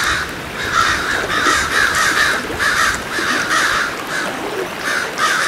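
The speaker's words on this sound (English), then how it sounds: "Those blackbirds are not really happy with this guy right here." Blackbirds by a West Virginia river call agitatedly, a steady run of harsh, scolding calls overlapping one another, close and loud throughout.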